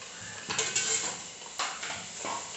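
An idli steamer pot taken out in a home kitchen, faint metallic clanks and knocks of cookware with brief scrapes, close and quiet.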